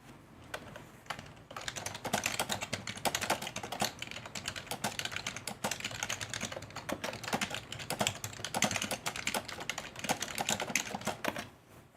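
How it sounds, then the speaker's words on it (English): Rapid, continuous typing on a loud computer keyboard, with dense clattering keystrokes heard up close for several seconds and no voices. "I wonder if the changes that I've made have made the typing slightly less insanely loud."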